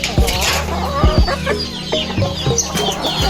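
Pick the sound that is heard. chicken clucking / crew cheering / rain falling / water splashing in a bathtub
chicken clucking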